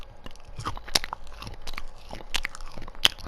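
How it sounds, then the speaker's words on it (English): Someone bites into a sausage up close, producing several crisp crunchy bites and chewing sounds spread across a few seconds, with no talking. "take a bite out of the sausage"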